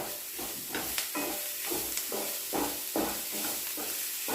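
Ginger garlic paste sizzles steadily in a pan for a pepper masala egg curry, with a continuous hiss and regular scraping stirs every half second or so, close and moderately loud.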